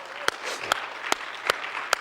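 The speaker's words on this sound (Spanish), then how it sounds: "¿Le puede dar un aplauso al Señor?" Church congregation clapping in praise, a soft crowd murmur and clapping under a roughly even beat of sharp, regularly spaced claps, about five in two seconds.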